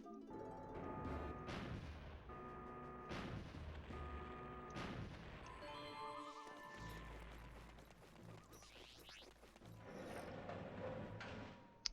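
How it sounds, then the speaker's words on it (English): Cannon fire blasting open a wooden door in Star Fox Adventures, heard as repeated booming, crashing blasts and mechanical clanks over a layer of game music, with a sharp hit at the very end. "We gotta go to the cannon and blow open this wooden door."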